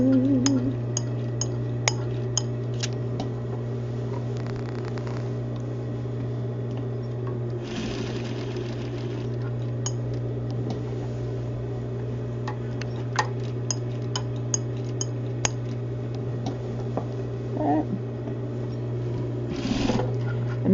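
Sewing machine stitching around a bound buttonhole facing, a steady motor hum with rapid ticking needle strokes running continuously, broken by a few brief clinks and pauses.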